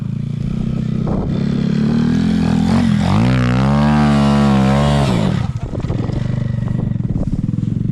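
A Honda Monkey motorcycle bogs in deep sand on the Isle of Man, its engine revving hard and whining up in pitch, then dropping back to a rough, labouring putter, loud and close.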